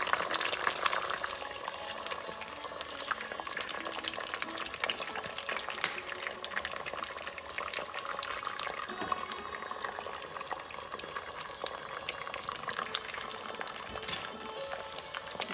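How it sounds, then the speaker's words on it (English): Three eggs frying in hot oil in a pan while making chilli garlic egg fried rice, giving a continuous, dense, crackling sizzle that stays loud and even throughout. "So the oil is hot, so let's crack some eggs into this."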